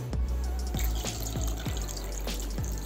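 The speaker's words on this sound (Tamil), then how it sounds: "2 டம்ளர் தண்ணி ஊற்றிக்கோங்க." Water splashes and gurgles into a cooking pot holding cleaned stingray fish, with a series of dripping, plopping strikes, close up and steady, with no talking.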